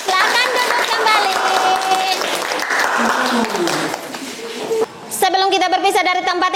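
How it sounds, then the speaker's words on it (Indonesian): Classroom students clap for their classmates, a dense burst of many hands applauding that tapers off after about four seconds, followed by a short pause and more scattered claps mixed with voices. "Tepuk tangan untuk teman-teman"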